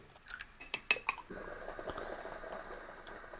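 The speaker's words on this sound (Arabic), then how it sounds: "وهسه نطق البيض" Eggs cracked for Iraqi broad beans with fat: a few sharp taps and cracks, then a soft, steady sizzle as they hit the hot pan with fried onions, with no voices.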